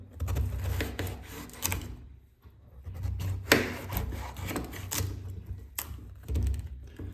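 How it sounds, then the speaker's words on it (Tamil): A knife cuts through white pumpkin (ash gourd) into slices, giving close, irregular woody scraping and rubbing strokes with short pauses between them, no talking. "இதில் வந்து நம்ம ஸ்லைஸாக வெட்டிக்கலாம்."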